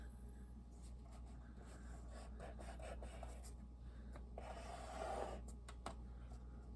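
Paper is scored at a half-inch line while making a simple two-signature journal, giving faint, close scraping strokes in a quiet room.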